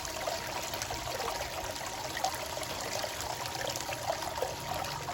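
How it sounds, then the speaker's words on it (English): Water rinsing out a bag of gold paydirt, a continuous close trickling and splashing flow that holds steady throughout. "This is one hell of a bag right here, so this one's getting rinsed out."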